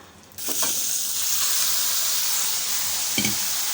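Grated radish drops into hot tempering oil with a sudden loud sizzle that settles into a steady frying hiss, broken by brief scraping as it is stirred, close and with no voice.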